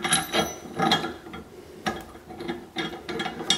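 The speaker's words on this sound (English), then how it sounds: "And what you want to do is start threading your pin in." A trailer hitch locking pin being threaded into the hitch, giving close, irregular metallic clicks and ratcheting ticks in short bursts with brief pauses between turns.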